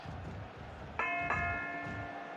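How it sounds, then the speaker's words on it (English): A wrestling match bell rings twice in quick succession, two bright metallic strikes about a third of a second apart that leave a lingering ring over the steady noise of an arena crowd. "You'll hear the bell ring."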